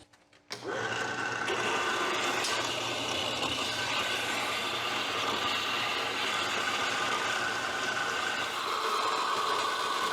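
A saw blade cuts through a small steel spacer for a backyard fallout shelter, giving a steady, loud, continuous grinding whine that keeps going without a break for about nine seconds after it starts abruptly.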